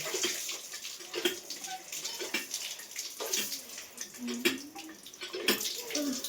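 Running tap water splashes steadily while someone washes up in a home kitchen during a morning routine, with brief clatters, moderately close, and a voice speaking faintly over it.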